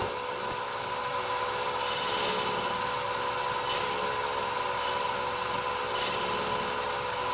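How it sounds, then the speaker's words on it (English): A woodturning tool cuts into spinning wood on a lathe to form a bead on a captive ring, a steady close scraping hiss over the lathe's constant hum, with brighter bursts as the tool bites, no talking. "Just forming the bead on the outside of what will be the captive ring."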